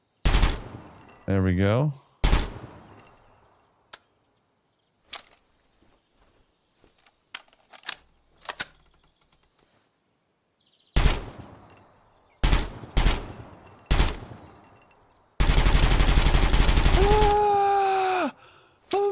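An M4 carbine firing in Gunsmith Simulator: sharp single shots spaced across a quiet range, then a sustained full-auto burst near the end, with a voice briefly speaking and groaning between shots.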